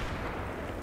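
Dense rumbling blast from explosions in a Battlefield 3 multiplayer match, a brief continuous roar filling the moment with no voices.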